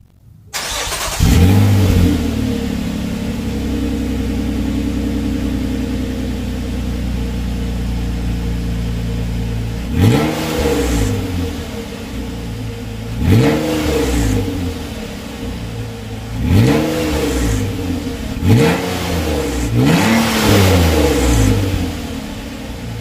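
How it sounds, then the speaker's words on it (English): A car exhaust with a gutted catalytic converter starts up and idles, then revs sharply five times in a row. Each close, loud blip climbs and drops back to a rumbling idle. "Let me show you guys an exhaust clip of how the car sounds with the gutted catalytic converter."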